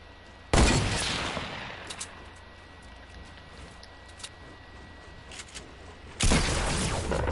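Two loud hunting-rifle shots in a video game, each a sharp broadband crack with a long rolling echo tail, spaced about six seconds apart, with faint clicks and quiet ambience in between and no talk.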